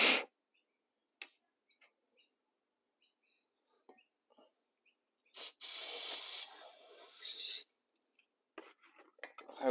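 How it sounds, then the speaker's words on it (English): Cleaner sprays in short hissing bursts through the fuel screen of a 1960s British Seagull outboard motor, one long burst in the middle between quiet ticks and faint handling noises. "just run some cleaner through that"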